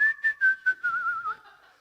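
A person whistles a short, bright melody of a few clear rising and falling notes, imitating a church congregation whistling together in response to a pastor, close and alone without other sound.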